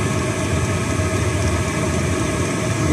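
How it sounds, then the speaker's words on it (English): The fuel pump of a Chinese diesel heater runs steadily as a loud, continuous mechanical hum and rattle, close by and unbroken throughout. "Well, the pump's still going."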